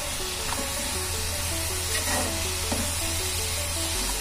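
Potato and fenugreek sabzi with turmeric and salt is stirred in a hot pan, a steady close sizzle with scraping strokes of the spoon and a low background hum throughout, no voices.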